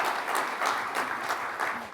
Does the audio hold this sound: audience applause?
yes